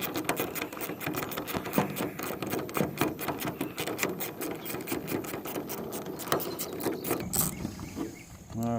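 A rusty bolt on a Ford F-150 fuel filler door is worked loose with a ratchet: fast, continuous close-up clicking of the pawl with a few heavier knocks, and a brief squeak near the end.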